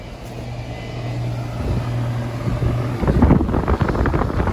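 A central air conditioner's outdoor condenser unit running, a low steady mechanical drone nearby that rises and roughens partway through as the unit works harder, with no speech.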